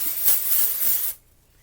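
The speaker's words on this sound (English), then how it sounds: "I like to give it one good spray, like all over" One long hissing burst from a spray bottle misting all over, close and loud for about a second before cutting off into near silence.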